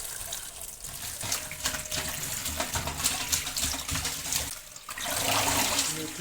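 Fenugreek leaves are washed under running water in a kitchen, a steady close splashing stream with brief dips and surges as the leaves are handled, no talking over it.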